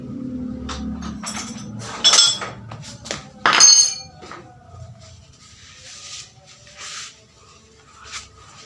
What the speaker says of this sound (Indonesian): Lanjut kalian menggunakan palu ya teman-teman